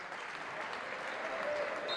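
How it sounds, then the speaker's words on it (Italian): An audience claps at a Serie A volleyball match between Came Treviso and Meta Catania Bricocity, a steady wash of applause from the crowd lasting the whole moment. "Applausi da parte del pubblico"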